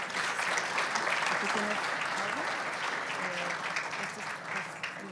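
An audience at a supply chain security inauguration event applauds a guest with steady, dense clapping that tapers slightly near the end, while someone briefly speaks over it.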